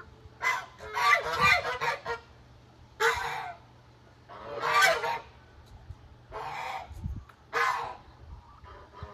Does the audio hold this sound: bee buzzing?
no